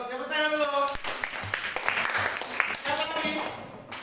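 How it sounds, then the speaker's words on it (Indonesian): Classroom applause from students during a religion lesson, a burst of clapping mixed with voices and chatter, fairly close and steady through the clip. "Tepuk tangan dulu."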